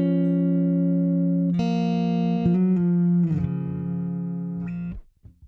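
An electric guitar on the neck pickup runs through an Axe-Fx, producing a warm ambient pad with sustained swelling chords that change a few times before fading out, quiet and alone.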